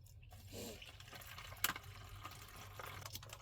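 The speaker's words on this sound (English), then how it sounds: "You just fill it up with water." Water is poured into a small container already holding drink powder, a quiet trickling and dripping fill with soft splashes against faint background hum.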